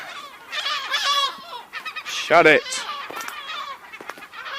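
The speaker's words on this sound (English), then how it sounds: "Bloody seagulls." Seagulls squawk and call loudly near an abandoned island in Scotland, harsh repeated cries overlapping with someone shouting and other voices.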